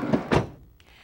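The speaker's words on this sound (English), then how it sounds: "Now, close the door normally." The sliding side door of a 2001 Dodge Caravan closes with two quick thunks close by, followed by a faint click, all within about a second.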